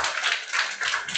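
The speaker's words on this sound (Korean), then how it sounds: "박수 주세요." A short burst of applause, several hands clapping together briefly.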